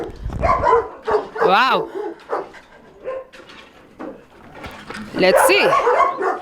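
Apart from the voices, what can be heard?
dogs barking excitedly at a kennel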